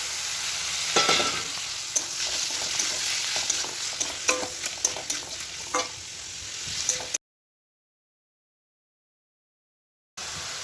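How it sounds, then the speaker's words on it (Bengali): Washed pond snails sizzling in a pan of softened onions while being stirred, a steady close fry broken by scraping spatula strokes, then a few seconds of silence before the sizzle returns. "এই যে পেঁয়াজগুলো নরম হয়ে গেছে, এবার এখানে ভালো করে ধুয়ে রাখা গুগলিটা দিয়ে দেবো, দিয়ে খানিকক্ষণ ভাজবো।"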